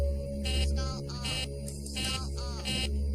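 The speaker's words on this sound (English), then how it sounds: "Can we get the stall warning to sound?" An aircraft cockpit stall warning sounds during a system test, a loud, continuous buzzing alarm over a steady low hum, with repeated pulsing bursts and what may be a synthetic voice warning mixed in.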